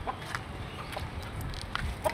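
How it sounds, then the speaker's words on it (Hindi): A rooster perched on a wall gives a few short, clipped clucks, fairly close but not loud, scattered over a quiet outdoor background with no talking. "देखें फाइनली मुर्गा दीवार पे चढ़ गया।"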